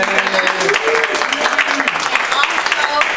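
A studio audience at a talk show applauds a Navy veteran guest, dense, sustained clapping from many hands filling the room with faint voices mixed in.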